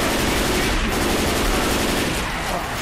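In Left 4 Dead 2's Hard Rain campaign, gunfire at the Tank rattles in a loud, dense, unbroken stream of rapid shots.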